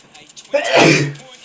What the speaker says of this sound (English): Can I stop sneezing, man?